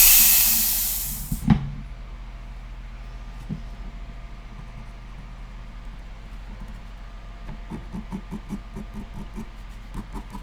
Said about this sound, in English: that's my compressor going off